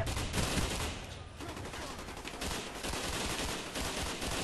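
Gunfire in a shooter video game comes as dense, rapid bursts of shots, fairly loud and continuous throughout, with brief uneven pauses between volleys.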